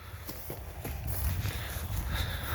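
Draft horse hooves clip-clopping at a slow walk, a few distinct knocks over a steady outdoor rumble.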